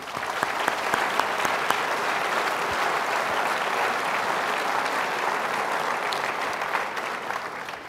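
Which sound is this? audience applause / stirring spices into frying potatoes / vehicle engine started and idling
audience applause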